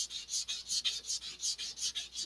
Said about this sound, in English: I feel like the angle that I'm sanding is too shallow